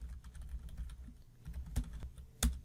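Fingers tap on a computer keyboard in a soft, irregular patter of quiet clicks, with a few sharper keystrokes standing out and no voices.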